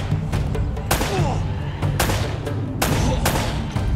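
Several loud, sharp gunshots crack out at irregular intervals over a constant rumbling background, with layered effects, from the combat game Uncharted: Drake's Fortune Remastered on PS4.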